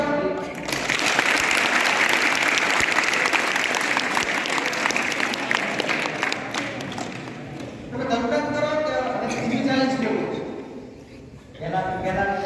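An audience breaks into sustained applause for teachers, dense clapping that swells and holds, then fades as someone speaks over the tail end with some lingering claps.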